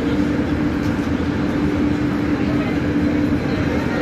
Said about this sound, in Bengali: তো আমাদের ট্রেন আসছে সামনে থেকে